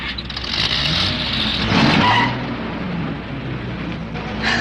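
A car speeds away on a road with a roaring engine and a brief tire squeal midway, loud and near, with the engine noise holding steady and then easing off toward the end.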